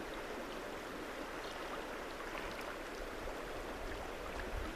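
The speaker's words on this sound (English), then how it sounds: "you just filled with the quiet brought to you by the sound of the river" A river flows with a steady, close, broadband rush of water, continuous and even with no voices over it.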